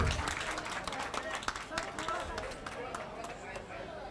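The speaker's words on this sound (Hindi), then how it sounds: "शुरुआत जो है इस सेलिब्रेशन की आप लोगों की तालियों की गड़गड़ाहट से होनी चाहिए" Audience applause at a Mumbai-style film celebration honoring a director, dense ongoing clapping from a crowd that sounds fairly distant and soft, with scattered sharper claps standing out over the wash.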